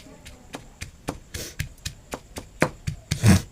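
Green chilli pieces pounded in a traditional stone mortar and pestle, a run of regular close thuds and gritty crushing strokes about twice a second, with a few heavier scraping grinds.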